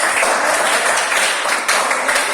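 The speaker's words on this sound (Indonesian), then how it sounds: "tepuk tangan untuk kelompok 2" Classroom applause for a student group during a music teaching session, a dense burst of many hands clapping at once, loud and steady for a couple of seconds with no talk over it.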